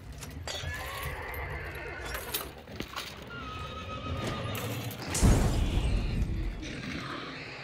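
A horse in the video game Hunt Showdown whinnies loudly several times, with hoof clops, thuds and a heavy boom mixed into the game sounds.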